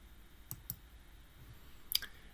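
Quiet computer mouse clicks while launching RStudio on a Chromebook: a few faint, sharp taps close together, with a low background hiss.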